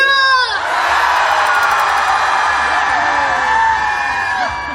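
A large concert crowd at an outdoor festival in Guryongpo, Pohang, screams and cheers loudly together in a sustained roar, following a brief voice at the start.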